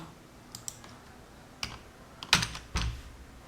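Keys clicking on a computer keyboard while Java code is typed, a few scattered light taps followed by two louder clustered strokes, close and alone with no voices.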